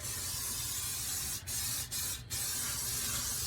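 A steady, continuous hiss of aerosol canola oil sprayed inside a grill, held down, briefly interrupted by three short pauses before resuming.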